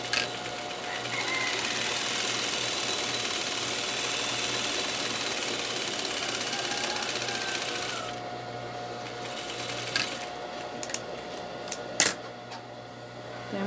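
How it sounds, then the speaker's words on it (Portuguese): A sewing machine stitching a seam runs with a steady, close mechanical whir for about eight seconds, then stops, leaving a quieter stretch broken by a few sharp handling clicks. "A gente vai passar uma costura do outro lado."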